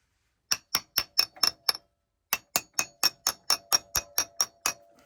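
A wheel bearing dust cap is tapped into place with a hammer: two quick runs of sharp metallic knocks, six then eleven evenly spaced, close and clear with no talking.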